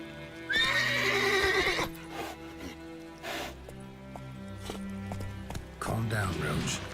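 The horse Roach from The Witcher 3: Wild Hunt gives a loud, shrill whinny early on, followed by clip-clopping hooves and softer snorts, with a second neigh near the end and game music underneath.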